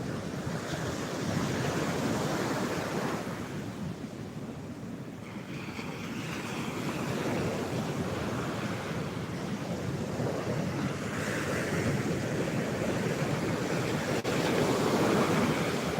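Calm Gulf sea waves washing onto the beach, a continuous soft surf wash with gentle swells and some wind buffeting the microphone, with no talk.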